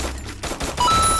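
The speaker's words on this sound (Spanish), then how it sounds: "¿vieron esos tiros?" Rapid gunfire in the battle royale game Free Fire, a loud burst of several shots in quick succession with the firing growing denser and more sustained toward the end, no talking over it.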